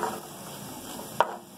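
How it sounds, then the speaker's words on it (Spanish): Onion added to hot lard in a cooking pot, a soft continuous sizzle with a faint scrape or clink near the end, quiet and close. "Que esté bien caliente, que esté caliente y ya pone la manteca. Ponemos la cebolla, ya que está caliente."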